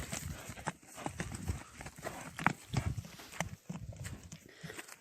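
A small, fast horse sold for buzkashi gallops, its hooves drumming in quick, uneven beats at a moderate distance, with faint voices and background noise.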